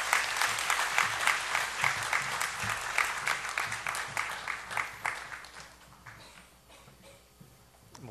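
A church congregation gives encouraging applause for four children on Children's Sunday, a full round of clapping that gradually thins out and fades to quiet by the end.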